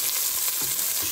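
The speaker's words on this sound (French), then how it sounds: "Je vais mettre les oignons à rissoler avec l'ail" Onions and garlic hitting hot oil in a pan for a bolognese sauce, a steady close sizzle and crackle with faint stirring, no talking.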